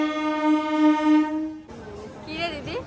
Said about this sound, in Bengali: ট্রেন আসছে ফাইনালি